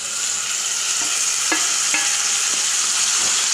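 Tomatoes frying with onion, ginger-garlic paste and curry leaves for Chettinad-style chicken gravy give a steady, close sizzle, broken by a few soft scrapes of a stirring spoon against the pan.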